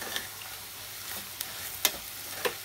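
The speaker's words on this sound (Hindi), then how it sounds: "दो से एक से डेढ़ मिनट तक इसको ऐसे भूनना है" Spinach masala for palak paneer being stirred and fried in a pan, a faint steady sizzle with a few sharp spoon scrapes and clinks against the metal.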